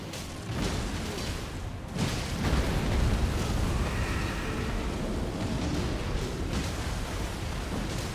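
An arm cannon fires explosive blasts in the video game Elden Ring Nightreign, a dense continuous roar of booms and rumbling bursts that swells loudly and stays sustained throughout, with no voices.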